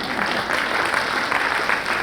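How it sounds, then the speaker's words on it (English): Audience applause at a corporate HR conference in Bengaluru, a dense steady wash of clapping from a crowded hall lasting about two seconds with no clear pauses. "Guys, you can applaud."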